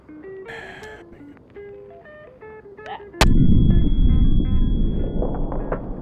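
A 252-pound artillery shell fires in a video game, with a sudden loud heavy boom cutting in after a stretch of quieter game music and tones, followed by a sustained rumbling roar.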